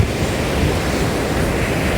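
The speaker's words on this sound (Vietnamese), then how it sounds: "biển Đại Tây Dương đây" Atlantic Ocean surf and wind on a beach: a steady, loud wash of breaking waves with constant wind rumble buffeting the microphone, no voices.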